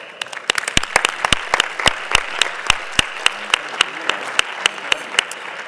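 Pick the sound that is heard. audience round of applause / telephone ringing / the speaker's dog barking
audience round of applause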